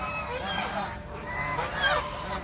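Radha geese honk loudly and continuously in a yard shared with native chickens and another goose breed, overlapping nasal calls close by with constant fowl chatter underneath.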